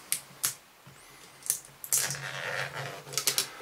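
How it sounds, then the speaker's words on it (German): Protective plastic film peeled off an all-in-one desk lamp with clock, thermometer and charging pad: a few crisp taps and crackles, then a close rustling, crinkling tear that stretches for over a second before more light clicks. "Ich ziehe mal hier die Folie ab."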